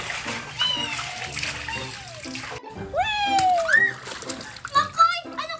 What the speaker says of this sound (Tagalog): Angel, magsiswimming na ako, ha